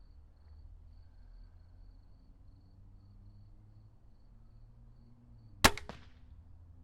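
A Killer Instinct Boss 405 crossbow fires once outdoors at a shooting range, a sharp, loud snap with a brief twang, standing out against low background rumble.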